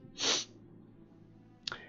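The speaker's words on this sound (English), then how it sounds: "Oh, I'm gonna sneeze." A single sharp sneeze close by, followed a moment later by a short sniff or snort; otherwise quiet.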